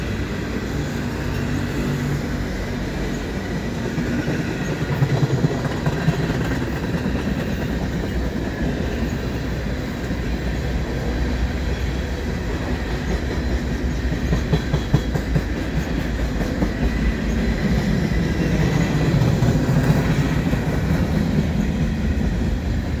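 A long mixed freight train led by a CN ES44AC locomotive rumbles past steadily, with continuous rolling noise and faint clickety-clack of wheels on track, fairly close and sustained throughout.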